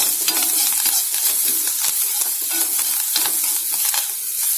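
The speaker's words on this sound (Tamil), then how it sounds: "இதை நல்லா வதக்கிக்கலாம்." Cumin seeds and a few curry leaves sizzle steadily in a hot pan with oil, a bright continuous frying crackle punctuated by the scrape of stirring, close and loud with no talk.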